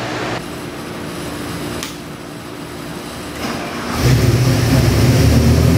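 A fuel-injected SBF 302 crate engine rated at 380 hp runs at a steady near idle, a continuous low rumble that rises and grows louder toward the end as the revs climb.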